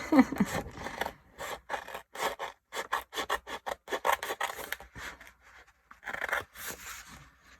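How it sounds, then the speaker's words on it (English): Scissors snip through Happy Planner paper from the back side near a divider, making a run of short, rhythmic cutting and rasping strokes, close and fairly quiet, with a brief pause before a final few snips. "the easiest way to deal with that is just to cut from the back side and try not to cut off any of the divider"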